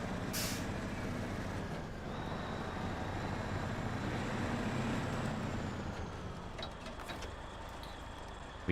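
A heavy truck in the video game SnowRunner, set in Alaska, lets out a long steady hiss of air brakes under a rumbling engine drone, finishing with a few sharp clicks and a pop.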